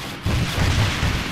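Rocket launcher fired in ArmA 3, a heavy booming blast with rumbling backblast that starts abruptly after a short pause and rolls on with low-end roar, no speech over it.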